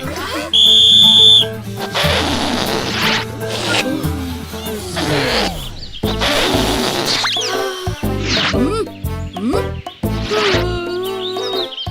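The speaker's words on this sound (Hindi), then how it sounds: "और ये बजी सीटी।" In a Chhota Bheem cartoon, a loud, shrill whistle sounds once for about a second to start a balloon-blowing contest, then gives way to music and animated voices talking.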